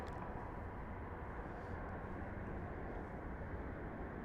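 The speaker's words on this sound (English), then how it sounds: "And this is gonna be a Boeing 737." A Southwest Boeing 737 coming in to land at Las Vegas Harry Reid International Airport, heard as a steady, loud broadband jet roar that holds constant throughout with no talk over it.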